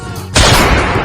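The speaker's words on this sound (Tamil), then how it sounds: "வீட்டுக்குள்ள பட்டாசு வெடிக்கிறான்" A loud, sudden firecracker blast goes off indoors nearby, its harsh crackling roar filling the room for a moment after a quieter lead-in.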